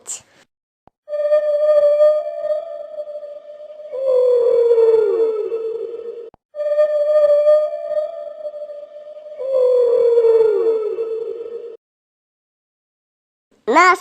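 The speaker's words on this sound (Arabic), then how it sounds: "حوت." A whale gives long, tonal moaning calls in two drawn-out phrases, each holding a steady pitch before sliding downward, loud and close against silence, with a short voice at the start and end.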